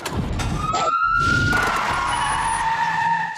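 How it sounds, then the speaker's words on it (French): A police siren from the Sandford police in Hot Fuzz wails loud and close, its rising tone holding steady above a busy, noisy background. "Et la musique, c'est les sirènes."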